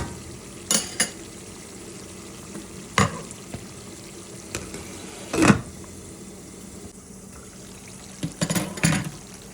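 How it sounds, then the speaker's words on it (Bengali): Goat meat and cabbage curry with green chillies being stirred in a pan, giving a few scattered scrapes and clinks of a spoon against the metal over a low, steady cooking hiss, with no one talking. "দিয়ে আবারও আস্তে আস্তে করে একটু নাড়াচাড়া করে দিচ্ছি"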